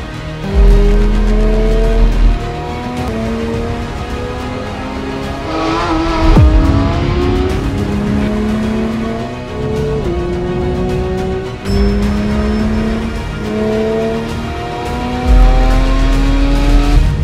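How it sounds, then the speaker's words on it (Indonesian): A Porsche 911 GT3 RS race car driven on a public road, its engine revving hard through repeated upshifts, with rising pitch sweeps, sharp gear-change breaks and loud, close acceleration throughout. "Ayo kita coba mobil balap yang katanya liar ini di jalan raya."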